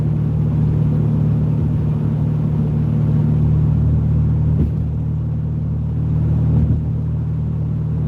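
A big red van's engine rumbles steadily throughout a drive, a loud, continuous low drone with slight swells and no talking.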